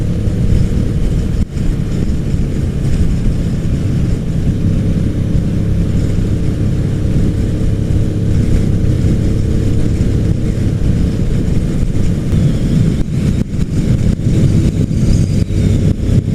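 A motorcycle cruises along highway 24 toward Pikes Peak, its engine a steady close drone mixed with rushing wind noise throughout, with brief shifts in tone and no talking.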